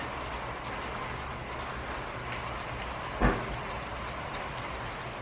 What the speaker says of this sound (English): Oh, it's raining really hard.